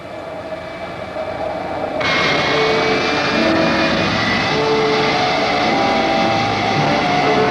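An F-104 Starfighter jet taxiing on a runway, its engine a loud, steady whining roar that swells in intensity after a couple of seconds and then holds, close and continuous, with no talking.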